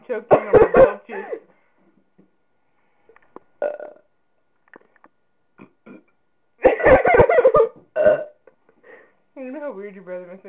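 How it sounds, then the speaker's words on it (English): Loud, gurgling burps during a belching contest, several bursts up close with throaty coughs and short vocal sounds between them and quiet pauses in the middle. "I'm choking on my belches."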